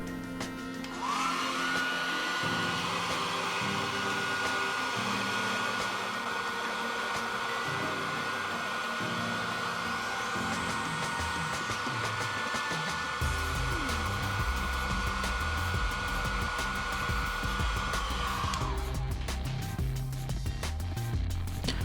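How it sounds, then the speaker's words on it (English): A hair dryer blows steadily, heating an iPhone XS case to loosen its speaker, with a loud, constant whooshing hum that starts abruptly, runs for most of the clip, then cuts off near the end. "heat with a hairdryer and carefully peel the speaker from the iPhone case"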